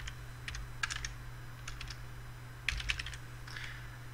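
Clicking keys on a computer keyboard as a variable name is typed: quick irregular clusters of close, crisp taps with brief pauses between bursts, over a faint steady hum and no speech.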